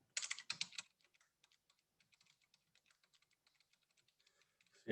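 Quick bursts of computer keyboard typing open the passage, followed by sparse, soft individual key taps and a louder clack at the end.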